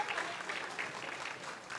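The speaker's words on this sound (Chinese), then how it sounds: "我们再次掌声恭喜他们" A hall audience at a business-forum award ceremony claps steadily and densely for the award winners, a continuous wash of hand applause with no voices standing out.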